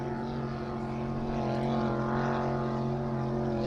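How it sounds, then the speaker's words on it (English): A Class 3 racing powerboat passes at an offshore race off Englewood Beach, its engines a loud, steady drone that swells slightly mid-pass and holds throughout. "In the background, you can hear the Class 3 boat of Brothers Racing going past us."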